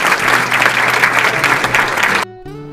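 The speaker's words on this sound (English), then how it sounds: "Please give a round of applause to Warren." Dense applause from an audience at an education award ceremony, honoring a college education hero, sustained loud clapping that cuts off abruptly near the end, followed by a brief tonal sound.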